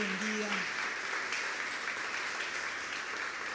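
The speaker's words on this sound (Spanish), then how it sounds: "le damos un fuerte aplauso, bienvenido, bienvenido" Church congregation clapping to welcome first-time visitors, a sustained crowd applause of steady, even loudness with a voice briefly heard over it at the start.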